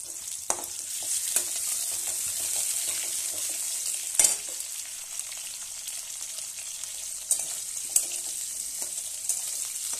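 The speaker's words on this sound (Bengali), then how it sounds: "দেখো আমি আলুগুলো আগে একটু লাল লাল করে ভেজে দিচ্ছি" Potatoes fry in oil in a pan with a steady hissing sizzle, broken by a few sharp clinks of stirring, close and continuous with no talk.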